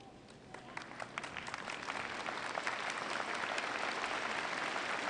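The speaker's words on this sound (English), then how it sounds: "join me in applauding that support group and who believed in you and supported you" A graduation audience at a University of Phoenix ceremony rises into applause, starting sparse and swelling into a broad, sustained roar of clapping from a large crowd.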